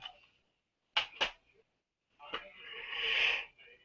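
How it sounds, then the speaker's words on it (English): A person yawns close by: a couple of quick breathy sniffs, then a long, drawn-out airy exhale that swells and fades, with no words spoken. "I keep yawning"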